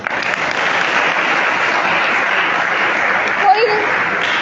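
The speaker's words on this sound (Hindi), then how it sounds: "कोई ताली आप लोग लास्ट में बजा लेना।" Students at a school event at Hindu National Inter College give a dense, steady round of applause that fills the whole stretch at close range, with a brief louder swell near the end.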